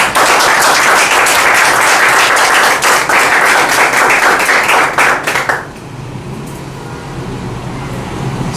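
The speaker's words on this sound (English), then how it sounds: "So does he not deserve a round of applause?" Loud, dense audience clapping at a speaking event fills the first five and a half seconds, then cuts off abruptly, leaving a low room hum behind.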